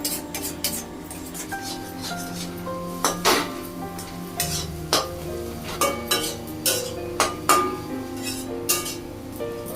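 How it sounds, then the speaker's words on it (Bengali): A spatula stirs and breaks up mashed egg in a frying pan for an egg bharta stuffing for pointed gourd, with repeated scraping strokes against the metal in a steady rhythm over a soft sizzle. "সেই জন্য আমি এইভাবে নাড়ছি আর স্প্যাচুলা দিয়ে এটাকে ছোট করার চেষ্টা করছি"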